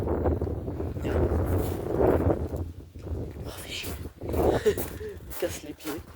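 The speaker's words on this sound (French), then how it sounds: "il y a trop de vent" Strong wind blowing outdoors beside a parked car, a steady low rumble buffeting the microphone throughout while someone talks over it.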